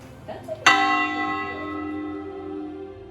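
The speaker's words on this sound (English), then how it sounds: "We just went up inside the church from the 13th century, rang the bell up there." A single bell strike rings out clearly after a soft thump in a 13th-century church in Spain, its rich metallic tone slowly decaying over a few seconds.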